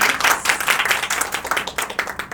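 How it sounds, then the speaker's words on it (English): Audience applause welcoming food writer, restaurant consultant and TV personality Karen Anand at a literary session in Amritsar, a steady mass of many hands clapping with no voices over it. "A round of applause for her."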